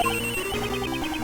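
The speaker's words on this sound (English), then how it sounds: "That's a terrible ringtone, by the way." A repeating electronic cell phone ringtone from the Ace Attorney Investigations 2 video game trills in steady, evenly spaced bursts over layered game music, loud and continuous throughout.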